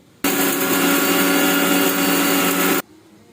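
A mixer grinder whirs loudly for a couple of seconds, a steady high-pitched motor roar that starts and stops abruptly.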